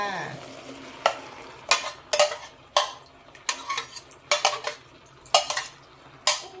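Vegetables and instant noodles stir-fried in a pan: a utensil scrapes and clatters against the pan in irregular strokes over a soft, steady sizzle, close up and with no talking.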